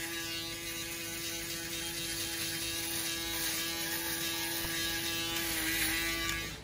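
An electric shaver cleaning up the edges of a faded haircut gives a steady, close buzzing hum that runs throughout without pause, with no talking over it.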